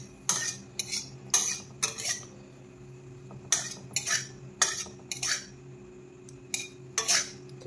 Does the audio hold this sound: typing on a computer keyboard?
no